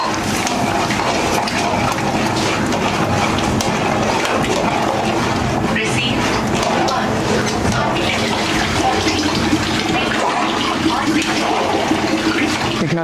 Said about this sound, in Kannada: ಅದರಲ್ಲೇ ಈಗ ಸ್ವಲ್ಪ ನೀರು ಹಾಕ್ಕೊಂಡು ಮಿಕ್ಸ್ ಮಾಡ್ತಾರೆ